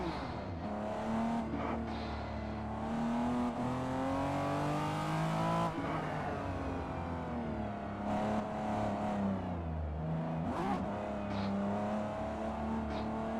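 A race car in Gran Turismo 7 roars continuously, its engine note rising and falling through gear changes with brief dips, loud and close throughout without speech.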